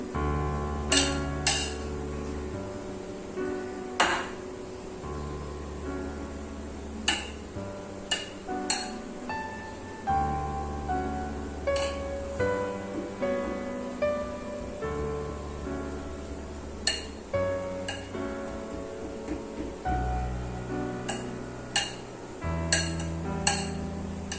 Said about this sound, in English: I can flatten it easily with the help of a spoon